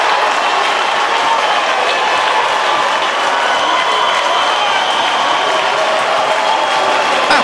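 A basketball crowd in an NBB game arena, Winner versus Mogi das Cruzes, applauding its idol, with dense, steady clapping at full volume throughout and no let-up.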